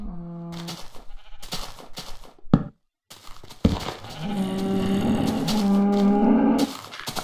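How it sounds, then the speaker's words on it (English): Minecraft cow moos in the Alpha version of the game: a short moo opens, then a long, drawn-out lowing call follows after a pause, mixed with other blocky game noises and no talk. "Cow scared me a little bit."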